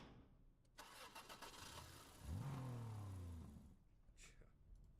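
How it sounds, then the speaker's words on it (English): A car engine hums and rises in pitch as it starts and revs briefly, heard faintly as a steady rumble that swells midway and then eases off. "you'll hear the sound of the engine humming and like them driving"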